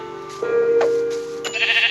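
A single drawn-out sheep bleat rises clearly, followed by a brief second bleat, with a faint synthetic background hum.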